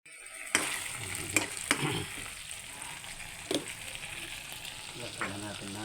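Sardines sizzling in a hot pan for misua, a constant frying hiss broken by a few sharp clatters of stirring, with a brief voice near the end.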